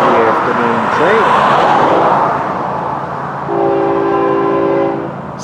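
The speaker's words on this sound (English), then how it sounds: "We're FEC's 206, the afternoon train." FEC 206, the Florida East Coast afternoon freight train, approaches with a long, loud horn blast, its rumble rising as it draws near.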